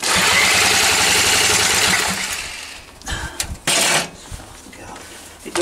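An old stationary petrol engine is cranked for a very cold start on stale fuel, a loud, fast repeated chuffing turnover that stops after a couple of seconds, followed by a few scattered clunks and knocks.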